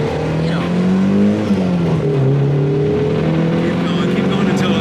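A VW Cabriolet engine revs steadily toward redline with a loud, sustained droning roar and a rising, slightly wavering pitch, with a voice talking over it.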